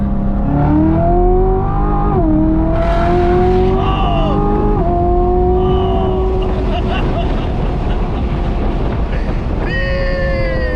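A Chevrolet Corvette Z06 accelerates hard in second gear, its engine note climbing loud and steady from inside the cabin before an upshift and another rising pull.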